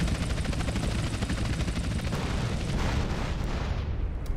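Helicopter in GTA San Andreas, a loud, dense, rapid rotor chop that runs continuously throughout, with heavy low thumping and no talking.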